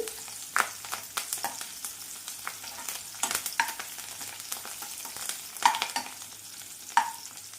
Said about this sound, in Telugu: ఇప్పుడు దీంట్లోకి కొంచెం కరివేపాకు వేసుకుందాం కరివేపాకు వేసుకునేటప్పుడు జాగ్రత్తగా వేసుకోండి